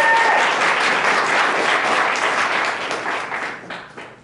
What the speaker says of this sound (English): So just round of applause for...